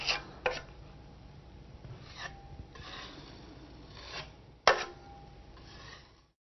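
A drywall blade drags and scrapes over joint compound while patching a hole in drywall, giving repeated raspy strokes with a few sharper knocks of the blade, close and moderately loud with no talk.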